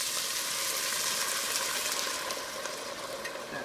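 Red wine hits a hot pan and sizzles with a loud, dense, continuous hiss that holds steady throughout.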